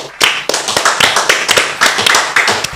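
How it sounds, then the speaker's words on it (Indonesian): Hands clapping in a quick, fairly even rhythm, a dozen or so sharp close claps in a row, loud and clear with no talk over them. "tepuk tangan"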